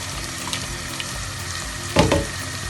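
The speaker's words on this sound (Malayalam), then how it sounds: "അപ്പോൾ ഇനി നമുക്കിതിൽ പച്ചമുളക് ഇട്ട് കൊടുക്കാം എന്നാണ്" Green chilies hitting hot oil with ginger in a pan, a constant sizzle with a few light clicks and a short louder burst of frying noise near the end.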